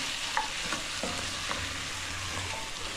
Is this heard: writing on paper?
no